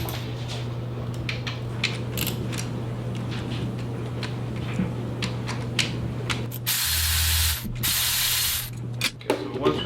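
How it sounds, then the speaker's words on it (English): Ratchet loosening the coil pack bolts on a car during a long-tube header install, a steady run of close mechanical clicking over a constant low hum, with a louder burst of rapid ratcheting near the end. "First things first will be loosening up the coil packs so we could unplug"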